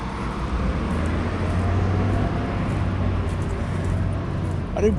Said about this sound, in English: why do buses and trucks have to be so loud?